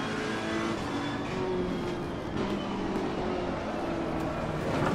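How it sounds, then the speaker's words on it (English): Race car exhaust burbling steadily in Assetto Corsa Competizione, a continuous loud engine drone with rumbling low tones throughout, no talk. "Oh, the lovely burble. You're hearing off the exhaust and everything."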